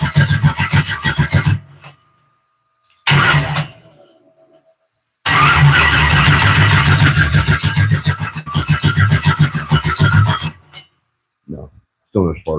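An engine with no spark cranks without starting, in loud close bursts of rhythmic churning separated by pauses, ending in a few short turns.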